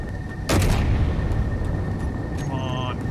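An explosion in a space combat video game bursts out with a sharp broadband onset and a rumbling decay, heard at moderate loudness over steady game background noise, followed by faint electronic tones.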